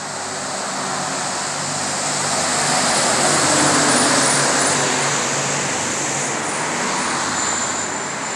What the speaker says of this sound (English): Trucks.